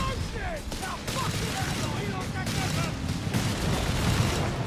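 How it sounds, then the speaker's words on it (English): Battle sounds from Company of Heroes 3 with a bomb going off amid ongoing gunfire and booms, loud and continuous, with a commentator talking over it. "There goes Sneaky Bomb off."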